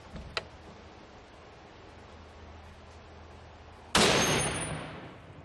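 A Barrett .50 BMG rifle fires an armor-piercing round into titanium, one sudden, loud, sharp blast after a few seconds of quiet ambience and a small earlier tick, its roar decaying slowly.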